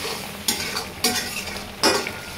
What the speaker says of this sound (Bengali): ভালোভাবে মশলা কষিয়ে নেব।